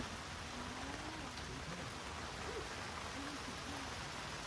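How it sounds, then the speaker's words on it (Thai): Light night rain falling steadily outdoors near a balcony at Lam Takhong, a soft continuous hiss that stays faint and even throughout, with a faint hooting bird call faintly audible in the background. "ฝนตกเล็กน้อย"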